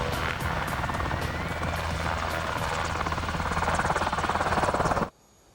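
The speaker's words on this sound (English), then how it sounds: "This is the HH-60L, the latest version of the Medevac Black Hawk helicopter" An HH-60L Medevac Black Hawk military helicopter roars steadily and loudly, with a rhythmic rotor chop over turbine whine that cuts off abruptly near the end.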